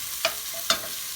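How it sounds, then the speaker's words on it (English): Food stirred in a pan over high heat gives a steady faint sizzle broken by two quick, sharp scrapes of the utensil, close by and without talk. "Cook this on high heat for a while. Stir everything"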